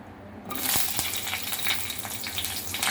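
Green chillies hit hot oil with a sudden burst of crackling and sizzling that keeps spitting steadily, a few sharp pops standing out near the start.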